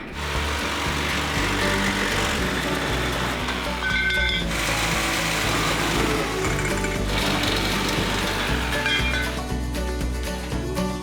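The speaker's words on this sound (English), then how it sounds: "Now we'll just chop out these bars of the frame." A power tool chops out steel frame bars on a motorcycle-engined F1 car, giving loud, continuous, buzzing metal-cutting noise with shifting pitch in several long bursts, nearby and without talk.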